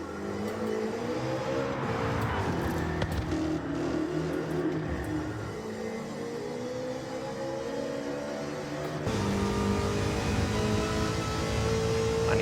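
A Roadster Shop Road Rage Camaro in a racing video game, its engine droning steadily with rising and falling harmonics as it powers through corners under heavy throttle, loud and continuous throughout.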